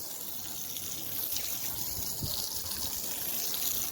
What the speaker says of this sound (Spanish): a probar a tirar agua con la manguera